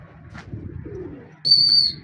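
Long-distance racing pigeons returning home in a rooftop pigeon-keeping setting, with soft low cooing murmurs running through the clip beneath faint outdoor background and a brief higher tone near the end.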